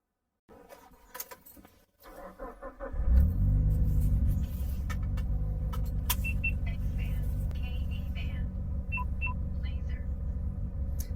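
A 900-horsepower Mitsubishi Lancer Evolution VIII running on ethanol with a Quartermaster clutch, starting after a few clicks and then settling into a loud, steady, deep idle rumble close by, with a few higher tones over it.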